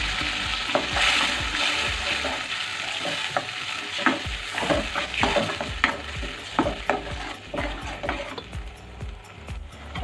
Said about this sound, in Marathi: आता जे आपण वाटलेला मसाला आहे तो टाकूया।